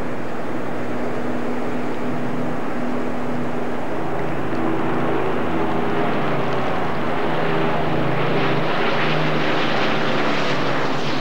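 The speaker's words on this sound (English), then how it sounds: "having cut back from the lead to conclude the flypast, the Spitfire and Hurricane" A Spitfire and a Hurricane make a low flypast at a Battle of Britain anniversary. Their propeller engines give a loud, continuous droning roar with steady tones, which swells and shifts as the aircraft pass. No talking is heard.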